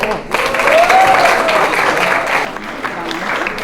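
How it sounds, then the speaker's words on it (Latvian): Sustained applause from an audience at a school quiz game award ceremony for the second-place team, loud dense clapping that swells and then eases slightly, with a voice speaking over it. "Aglotas vidusskola ir pelnījusi lielākus aplausus"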